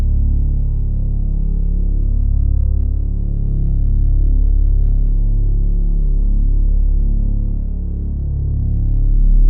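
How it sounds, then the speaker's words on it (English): A low, steady hum heard in Taos, a small desert town in New Mexico, drones continuously at fairly high level with a slow throb, like a distant truck engine idling, with no other sounds. "A low, steady humming noise, like the distant engine of a truck."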